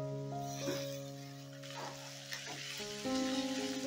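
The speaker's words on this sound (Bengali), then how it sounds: "এবারে এই পেঁয়াজটাকে হালকা লাল করে ভেজে নেব।" Two medium chopped onions frying in oil to a light golden colour, a soft, faint sizzle with occasional stirring scrapes beneath sustained background music.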